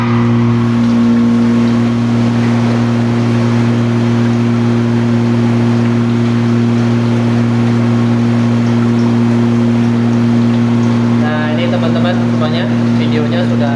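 Machinery in a wastewater treatment plant room runs loud and constant, with a strong steady low hum and broadband mechanical roar that barely changes throughout.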